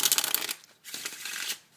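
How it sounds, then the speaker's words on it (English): Close, crisp riffling of a deck of playing cards as a spectator shuffles it. There are two bursts separated by a short pause, with no talk. "give the cards to the spectator and have them shuffle it up from the beginning"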